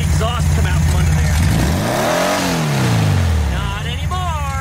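A 1974 VW Beetle engine, freshly repaired, runs loud and close with a steady idle, then revs up and back down in one smooth sweep before settling again, while someone talks over it.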